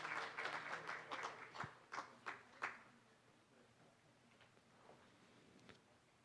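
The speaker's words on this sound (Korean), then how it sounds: "큰 박수 부탁드리겠습니다" Scattered claps from an audience at a corporate award ceremony, a sparse burst of separate hand claps in the first few seconds that quickly fades to quiet room tone, fairly faint and distant.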